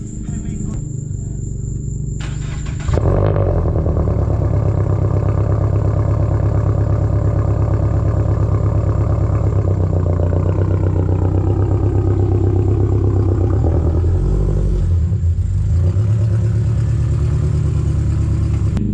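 A Honda Civic Si pulls up, its engine a steady, close, low drone that starts abruptly after a few seconds of quiet and holds evenly to the end.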